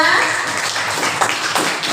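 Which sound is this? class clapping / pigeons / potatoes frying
class clapping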